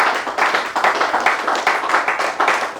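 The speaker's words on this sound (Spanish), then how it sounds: "Den un aplauso a Dios, hermano." Church congregation applauding together, a dense, steady wash of many hands clapping in quick irregular pulses, fairly loud and close, with no talk over it.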